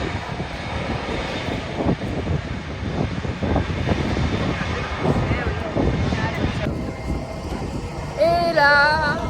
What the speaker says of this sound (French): On a dû laisser passer un avion.